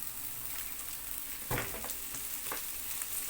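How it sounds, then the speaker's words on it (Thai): Garlic frying in oil gives a steady, dense hiss of sizzling, with a few brief scrapes and bumps as it is stirred in the pan. "เราจะต้อง เจียวกระเทียมกับน้ำมันให้หอมๆก่อนนะคะ"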